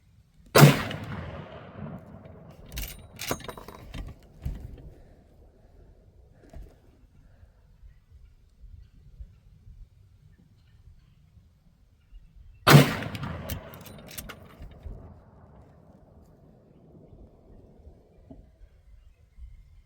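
A Marlin 1895 Trapper lever-action rifle in .45-70 fires two loud, sharp shots about twelve seconds apart, each with a short ringing decay. Quieter outdoor ambience fills the long gap between them.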